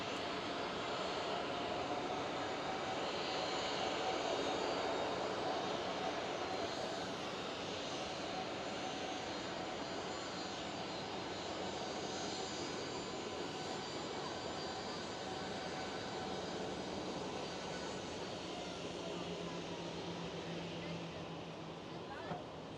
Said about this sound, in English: And the private jet just arrived.